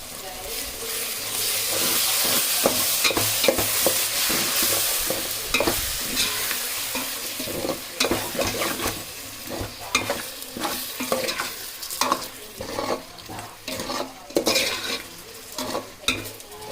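Vegetables for veg biryani fry with chili powder, turmeric and curd while a spoon stirs them, sizzling continuously under repeated scraping and clanking strokes against the pot, close and fairly loud.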